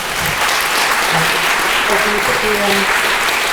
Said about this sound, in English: A round of applause for Kate, I think